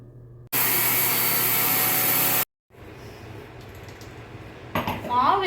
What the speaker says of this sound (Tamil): நான் வந்து மிக்சியில் அரைச்சி எடுத்துக்கிறேன்